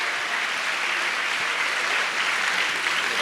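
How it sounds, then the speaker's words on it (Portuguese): An audience applauds a professor at a university closing event, steady dense clapping filling the room at close range with no talk over it. "Uma salva de palmas para o professor."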